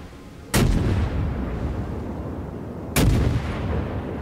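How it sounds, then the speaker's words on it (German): Warship gunfire in the naval battle game World of Warships: two loud, sharp cannon blasts about two and a half seconds apart, each trailing into a long rumbling decay over steady background noise. "Wo schießt der denn hin?"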